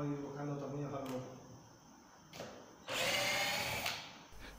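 A power drill backs screws out of the wood of a flat-packed armchair, giving a single whirring burst of about a second after quieter handling sounds, with a voice heard earlier.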